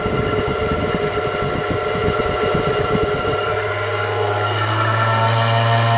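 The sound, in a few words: Dremel rotary tool spinning a centrifuge at low RPM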